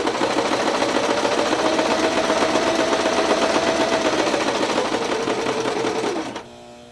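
A sewing machine runs steadily up close, stitching a line through fabric with a rapid whirring hum for about six seconds before it stops abruptly.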